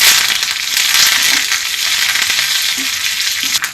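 Curry leaf stems crackle and sizzle loudly in hot oil for a Kerala mango curry, a steady close-up fry with sharp pops scattered throughout.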